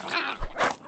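Small dogs in the survival game Survival: Fountain of Youth give a brief whimpering, yipping cry, fairly close and loud, rising and falling twice in under a second with no talk over it.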